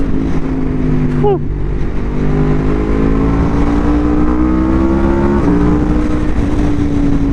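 An Aprilia RSV4 1100 Factory V4 superbike pulls hard under acceleration, its loud rising engine note climbing through gears over wind rush, with a brief exclaimed breath from the rider.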